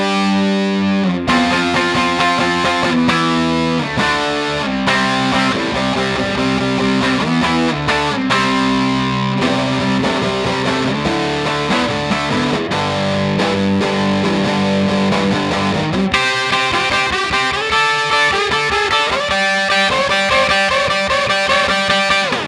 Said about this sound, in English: it's going to be the amp dial on the Lekato, which is the overdrive setting